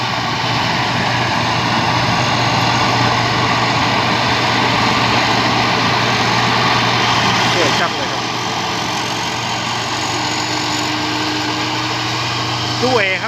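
A 2022 twin-turbo combine harvester with an air-conditioned cab runs with a loud, steady engine drone while harvesting jasmine rice in a field in Surin, Thailand, as someone talks over it.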